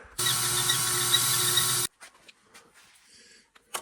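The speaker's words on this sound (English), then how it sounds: "So we're going to use sandpaper." A nearly century-old worn lathe spins a turned part against sandpaper in one loud, steady whirring burst of under two seconds, then stops, leaving faint handling clicks and rustles.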